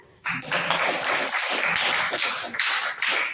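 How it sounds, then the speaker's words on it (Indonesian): A classroom group claps together in a lively burst of applause that begins suddenly and carries on steadily, with a few voices mixed in. "tepuk tangan"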